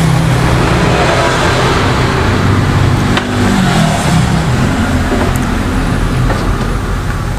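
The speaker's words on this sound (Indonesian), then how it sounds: "mobil itu sangat keras sekali, jadi harap dimaklumi" A loud car engine drones steadily outside, heavy and continuous, mixed with road and traffic noise with no pauses.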